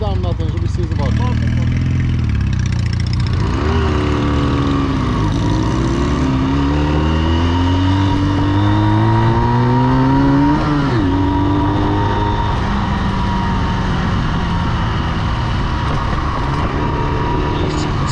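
A Junak motorcycle's engine rises and falls in pitch as it rides past at a motorcycle rally, loud and fairly close, with people talking over it throughout.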